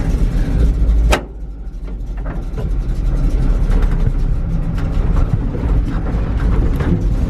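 A vehicle engine idles and rumbles steadily and loudly up close, with a brief drop after a second before the low drone resumes.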